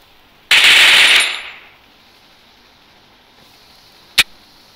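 Automatic weapon fire in the video game Free Fire: one loud, close burst of rapid machine-gun shots lasting under a second, then a quiet stretch and a single sharp shot near the end.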